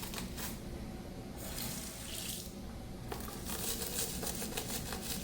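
Soapy dental-style brush being washed under a running tap, steady close water flow splashing over bristles with brief shifts in the stream, no voices.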